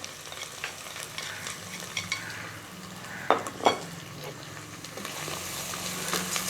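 Onion fries with red chilli powder, crushed red chilli and salt for an aloo green chickpea curry, sizzling steadily as a spoon stirs and scrapes the pan, with a couple of sharper knocks midway.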